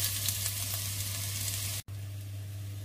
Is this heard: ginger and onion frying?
yes